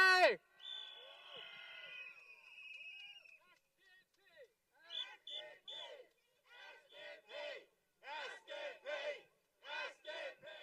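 A crowd at an outdoor political election rally lets out a long shout, then bursts of cheering and calling rise and fall in repeated waves, loud and fairly close.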